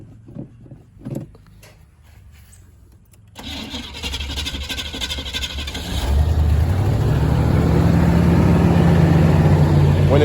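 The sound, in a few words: car engine cranked and idling up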